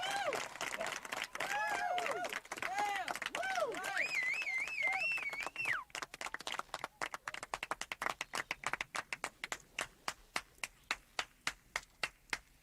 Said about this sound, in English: everyone's clapping when the musical number's over, and they continue clapping even after it's done